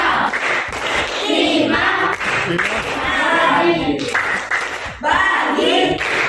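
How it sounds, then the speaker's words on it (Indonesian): A group of people in a classroom claps in bursts, a rhythmic patter of many hands mixed with children's voices and shouting, loud and close. "Tepuk tangan untuk semuanya"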